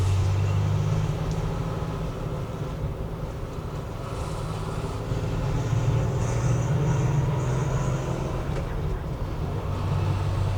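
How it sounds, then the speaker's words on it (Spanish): A Porsche 911 2.7 S with its six-cylinder boxer engine drives along, a steady low drone heard from inside with wind rush over it and a few faint higher whines. "El motor de 6 cilindros Boxer tiene un sonido"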